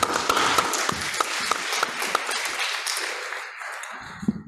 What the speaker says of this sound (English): live applause, that's an unusual sound